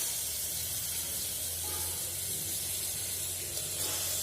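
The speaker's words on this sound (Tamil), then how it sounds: "சிக்கனை போட்டு கொஞ்சம் நேரம் வதக்க போகிறோம்" Chicken sautéing in a pan for biryani produces a continuous loud hiss and sizzle with a low steady hum beneath, unbroken from start to finish, with no one speaking.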